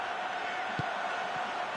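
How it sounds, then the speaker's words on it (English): Stadium crowd in a football video game roars steadily, a dense continuous wash of voices urging a player to shoot, with a faint thump midway. "Crowd calling for him to shoot."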